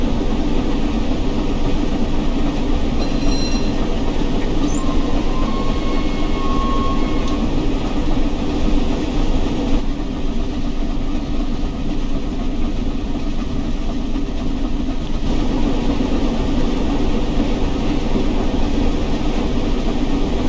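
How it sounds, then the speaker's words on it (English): Flying Scotsman steam locomotive running close to its 75 mph top speed on level ground, a loud, steady rumble and rattle of the moving train heard from on board, with a faint whistle-like tone partway through. "And we're already getting closer to our maximum speed."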